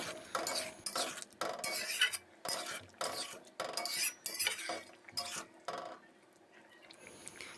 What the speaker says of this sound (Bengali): তাই আমি এতে একটু সামান্য চিনি দিয়ে মিক্স করে নেব